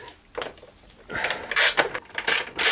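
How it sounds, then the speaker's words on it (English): Bolts being undone on a Honda CT125 motorcycle, a few close metallic ratcheting and clicking bursts that grow louder toward the end. "got these three bolts here. Let me just undo."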